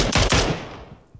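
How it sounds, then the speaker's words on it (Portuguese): Rapid gunfire in PUBG Mobile, a few loud, sharp shots cracking in quick succession, then echoing away into a fading tail and near quiet. "Quem é que tá atirando?"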